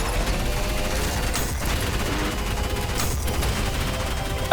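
Rail cannon fire in the ULTRAKILL video game, heard as dense, continuous crackling and blasting gunfire with heavy low rumble, loud and steady throughout with no talking.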